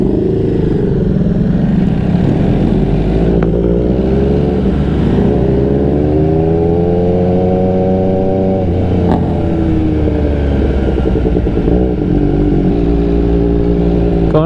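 An MV Agusta motorcycle being ridden, its engine droning loud and close while the pitch rises and falls through gear changes, under steady wind and road noise.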